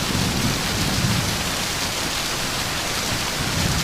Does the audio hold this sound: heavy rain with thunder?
yes